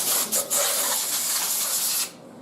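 An end mill on a milling machine cuts across the end of a metal part held in a vise, a close, steady rasping hiss that stutters briefly at first, then runs smoothly before stopping abruptly.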